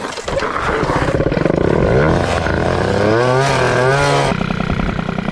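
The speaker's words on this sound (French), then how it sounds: "Démarrer une mob, ça fait 20 ans que je l'ai pas fait." A Peugeot 103 moped fitted with a full Polini tuning kit sputters to life and then revs hard in rising, whining two-stroke bursts, loud and close, with no talking.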